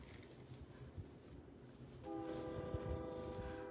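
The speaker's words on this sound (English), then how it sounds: "you can hear the train going by my house" A low, steady rumble of a passing train rises partway through, joined by a sustained tonal hum like a horn, heard from a distance.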